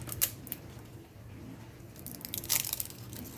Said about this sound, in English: And then you just snap it open.